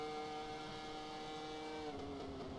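A Formula 1 Prost car engine in the rFactor racing game, Australian GP: a loud, steady high-pitched engine whine with dense harmonics, holding revs and shifting pitch slightly near the end, with no talk.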